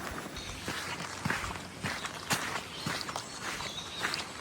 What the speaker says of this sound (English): all we hear is our footsteps and the sound of the birds